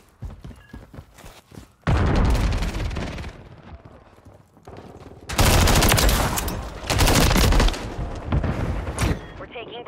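Heavy gunfire from Call of Duty combat, with dense bursts of rapid shots and loud blasts that swell and fade over the battle noise, while game voices call out orders among the shooting.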